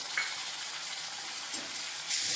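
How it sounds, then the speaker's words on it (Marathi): Chopped tomato dropped into a pan of fried onions for a dry Bombay duck masala, a loud, continuous broadband sizzle close up, with no voices. "कांदा आपला भाजून झालेला आहे आता आपण त्याच्यामध्ये कापलेला टोमॅटो टाकूया"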